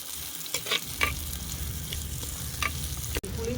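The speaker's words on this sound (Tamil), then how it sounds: "நம்ம இப்போ வதக்கலாம்" Curry leaves and coriander sautéing in a pan for a Tamil-style fish curry, a low steady sizzle with a few brief stirring scrapes, no voices.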